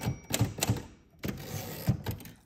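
Typewriter keys strike in a quick, uneven string of sharp clacks, close and crisp, with a short pause midway and no talking.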